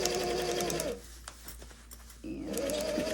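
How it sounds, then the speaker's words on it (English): A sewing machine stitches a belt attachment onto a dress in close, loud whirring bursts, pausing about a second for quieter handling noise, then starting again. "just gonna sew on along"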